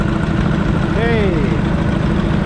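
A vintage tractor engine idles with a steady low rumble at a tractor pull at Vintage Farming Days in Lynden, Washington, and a brief rising whine cuts through midway.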